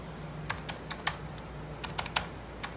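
Irregular keystrokes on a computer keyboard, about a dozen sharp clicks tapped at an uneven pace, close by over a faint low room hum with no talking.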